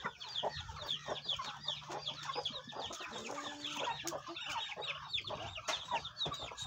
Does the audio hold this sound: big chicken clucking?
yes